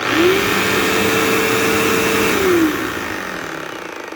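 A brand-new 2007 Bissell PowerForce upright vacuum cleaner (3525-2) runs with a slightly scratchy brush. Its loud, close motor whine holds steady, then drops in pitch and winds down near the end.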